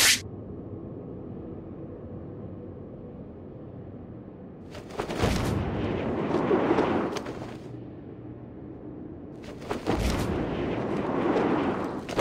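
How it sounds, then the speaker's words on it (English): Gunshots ring out from a bell tower in the Batman Arkham City video game: two sharp, distant blasts about five seconds apart, each followed by a rumbling echoing tail over quiet background ambience. "Gunshot came from the bell tower."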